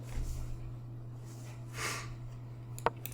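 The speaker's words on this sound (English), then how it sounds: "Ah, little sniffle. Just a little sniffle." A single short nasal sniffle near 1.8 seconds, close and quiet, followed by a faint click over low steady background hum.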